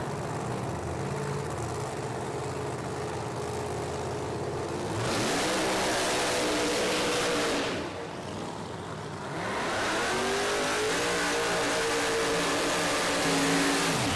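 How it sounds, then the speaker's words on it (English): A 1969 Camaro drag race car with a ProCharger supercharged engine revs hard at a drag strip, loud rising engine roars in two surges with a brief dip between them and no voices. "The 69 Camaro they call Hell's Bells with the Proline Pro Charger setup."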